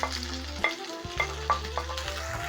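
Tomato going into golden brown frying onions in a pan, a brief sizzle with several soft spoon scrapes and taps over a low steady hum.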